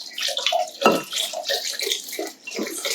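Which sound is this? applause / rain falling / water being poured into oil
water being poured into oil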